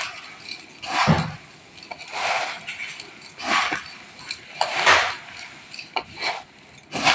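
Roasted rice and sago flours being stirred together in a metal vessel for chakli dough, with irregular scraping, knocking and clinking strokes that come in bursts between short pauses.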